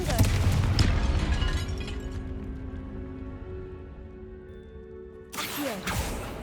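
A Confringo fire spell bursts in Hogwarts Legacy, a loud whooshing blast up front that rings out into a sustained tonal tail, with a second sharp burst near the end.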